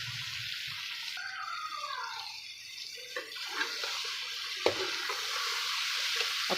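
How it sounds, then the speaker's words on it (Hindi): Pumpkin sabzi frying in masala sizzles steadily while a spoon stirs and scrapes the pan with irregular knocks, close and moderately quiet, without voices. "अब सब्ज़ी को अच्छे तरीके से हमने इस मसाले के अंदर फ्राई करना है।"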